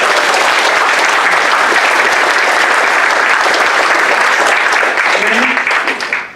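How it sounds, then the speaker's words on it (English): A live audience at a comedy or magic show in Monterey breaks into loud, sustained applause, dense clapping filling the whole moment and tapering off at the end. "Give her a nice round of applause."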